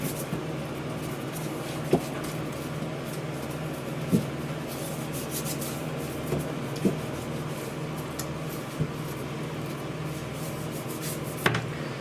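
Steady, close rubbing and scraping over an old, rusty baking tin goes on throughout, with a few faint knocks and taps scattered in.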